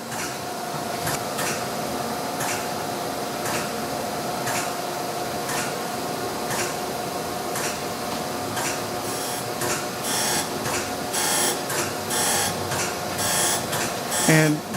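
A Chevalier AD III surface grinder with auto dresser runs as its wheel lowers, giving a steady mechanical whine and hum with rhythmic ticking pulses that grow busier toward the end.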